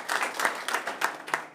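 A church congregation applauding, a cluster of hands clapping in quick, uneven bursts, moderately close and fairly quiet.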